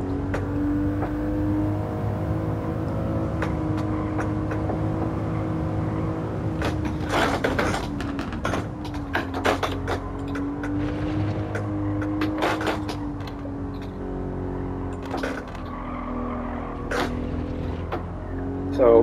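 Subaru BRZ race car engine in Gran Turismo 7, a sustained drone that rises and falls with throttle through a lap, with sharp clicks and bursts over it and a voice talking throughout.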